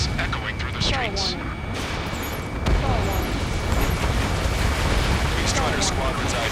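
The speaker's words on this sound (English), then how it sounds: "Gunfire and the roar of jets echoing through the streets." Booming gunfire and explosive bursts rumble over a noisy battle backdrop in the video game Ace Combat 7: Skies Unknown, with jets roaring and voices speaking through the chaos.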